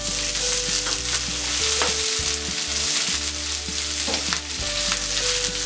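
An onion frying in a pan for veg Schezwan Manchurian noodles gives a dense, continuous sizzle, loud and close, with a steady low hum underneath and no voices.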